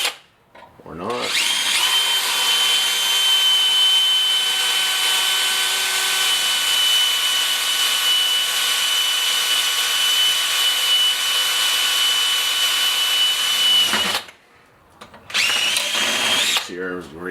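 A power drill whines loudly and steadily for about thirteen seconds as it drills through metal, stops, then gives two short bursts at the end.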